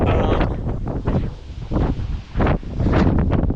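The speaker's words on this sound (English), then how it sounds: "it's getting super windy" Heavy wind in the mountains buffets the microphone in loud, roaring gusts that rise and fall, with no other sounds standing out.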